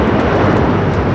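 Heavy airliner arriving on runway 24 right at Los Angeles International Airport, a loud, steady broadband jet roar filling the brief moment with wind buffeting on the microphone.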